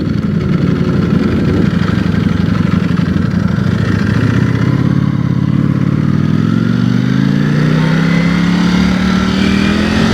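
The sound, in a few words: Ducati inline-four motorcycle engine while riding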